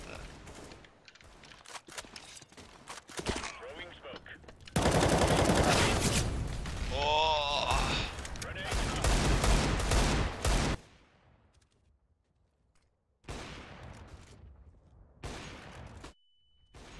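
Rapid bursts of video game gunfire in a battle royale match, loud and close, with dense volleys and automatic fire, then a short lull before more shots; players talk over it.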